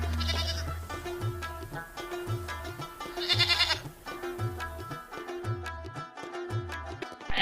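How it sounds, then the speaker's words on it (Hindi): Goats bleat over and over outdoors in a rural village yard, a steady run of nasal calls from several animals at moderate distance, with no talk over them. "बकरियों की आवाज़ें बहुत ही ज़्यादा मीठी लगती हैं"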